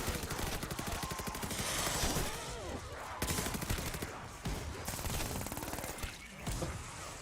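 Dense, rapid bursts of machine pistol fire in a video game, loud and close, running almost continuously with brief gaps between volleys.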